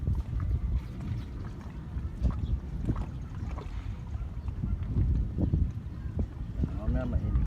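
Gusty outdoor wind buffets the microphone in low rumbling bursts throughout, with scattered knocks and handling noises and faint voices underneath.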